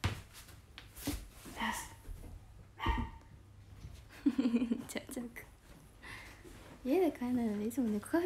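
A dog barks a few times indoors, short bursts scattered among women chatting in a home livestream setting.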